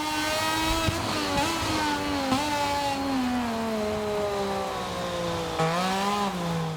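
A racing motorcycle in the MotoGP video game screams along a wet track, its high-pitched engine note steady and sustained, dipping briefly on downshifts and rising again as it accelerates, loud and continuous throughout.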